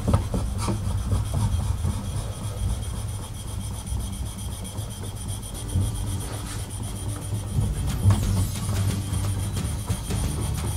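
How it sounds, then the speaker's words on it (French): A flat-held wood chisel scrapes continuously along the back of a wooden piece, a close, steady rasping rub with pressure applied throughout, no voices. "On commence par le dos, en appuyant bien toujours pour garder le ciseau bien à plat."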